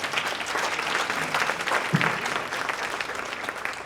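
Sustained audience applause fills a school district's new teacher orientation event, dense steady clapping from a large crowd throughout, with no speech.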